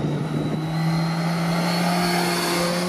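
Motorcycle engine running steadily on a dry road, a smooth continuous hum holding a constant pitch with light wind rush, close and fairly loud, no talking.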